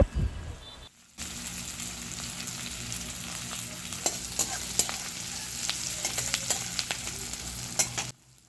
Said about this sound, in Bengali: কড়ায় তেলের মধ্যে গোটা জিরে ফোড়ন দিয়ে কুচনো পেঁয়াজ দিয়ে দেয়া হচ্ছে